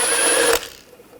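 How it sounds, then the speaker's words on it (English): A nut removed on a 2000-2006 BMW X5 rear hub with a 21mm socket on a power tool, a loud steady whirring buzz for about half a second that cuts off abruptly into quiet. "I'm going to take this nut off completely."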